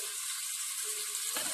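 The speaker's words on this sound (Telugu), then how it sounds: "బాగా ఫ్రై చేసుకోండి గైస్." Mutton sizzles steadily in a pan while cooking for akhni biryani, a continuous hiss throughout with a brief louder stir near the end.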